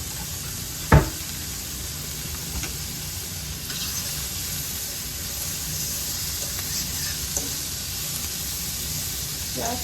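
Pork chops seasoned with complete seasoning sweating down in a frying pan, giving a steady, faint sizzle and hiss throughout, with one sharp clunk near the start and a few soft clicks later.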